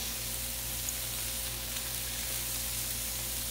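Smashed potatoes fry in a pan with a steady, close sizzle and crackle, even and continuous with no talking.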